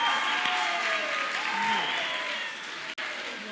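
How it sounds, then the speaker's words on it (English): Audience applause in a summit hall for a community campus TV presenter, a steady dense clapping that holds for several seconds then tapers slightly, with faint murmurs mixed in. "Can you please give Sandra a round of applause?"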